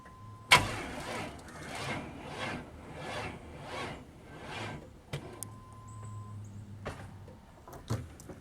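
A car with a weak battery on a cold February start cranks sluggishly, giving about six slow, rhythmic groaning turns, then stops without firing, followed by a few faint clicks and rustles.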